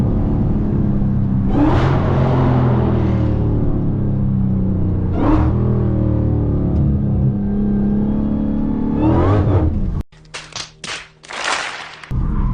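A Dodge Hellcat's engine revs hard and accelerates in loud, rising bursts, with three distinct surges over a steady rumble, then cuts to choppy, sharp thumps and rushing noise near the end.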